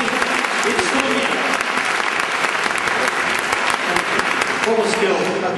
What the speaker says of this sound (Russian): Дэвид Сварап, встречайте его аплодисментами.